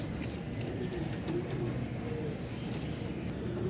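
Pigeons cooing softly in a loft or coop, a steady low murmur of several birds without pause, with faint rustling behind.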